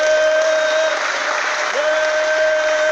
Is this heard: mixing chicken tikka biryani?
no